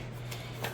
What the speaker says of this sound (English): the cards shuffle well, they feel sturdy